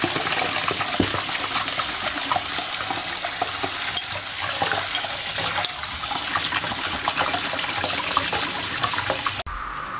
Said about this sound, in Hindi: और ये ठंडा पानी चला दें इस तरीके से